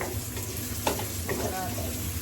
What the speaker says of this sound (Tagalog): Lagay natin yung bawang.